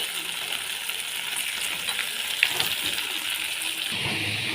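Steady sizzling of spices tempering in hot oil, a continuous crackling hiss with no talking.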